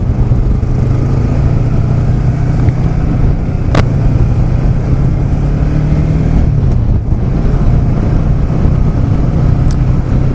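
New 6-speed motorcycle riding along, its engine a loud, steady drone with a continuous low rumble that shifts pitch slightly partway through, accompanied by wind rush and no talking.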